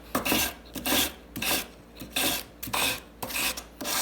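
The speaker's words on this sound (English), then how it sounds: "So this is a 280 grit sandpaper." An opal ring is sanded with 280 grit sandpaper during a jewelry resize, giving seven or eight rhythmic rasping strokes, close and steady, with short pauses between them and no talking.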